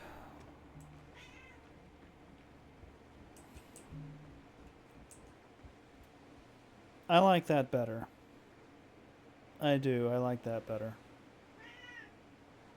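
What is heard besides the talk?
hungry cat meowing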